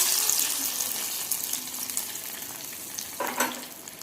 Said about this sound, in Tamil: கருவேப்பிலை மட்டும் தாளித்து ஊற்றிக்கலாங்க